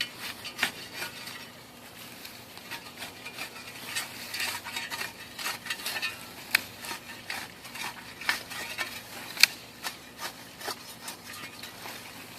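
Tool scraping across the top layer of garden soil, a run of gritty rasping strokes with scattered sharper clicks and ticks, close and fairly quiet, with no talking.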